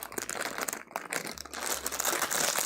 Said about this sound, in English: this freaking plastic bag is indestructible